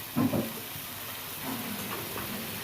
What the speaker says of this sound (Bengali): তিন থেকে চার মিনিট এভাবেই একটু কষে নেব মশলাটা